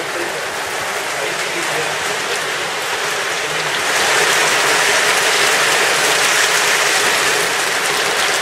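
Heavy rain pours down steadily as a dense, continuous hiss that swells louder about halfway through, with no talking over it.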